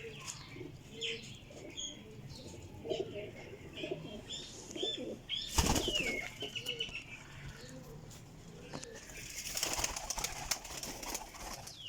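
Kasuri breeder pigeons in a loft in Sialkot, soft cooing and chirps near the microphone with a brief burst of wing flapping midway, while people talk over the birds.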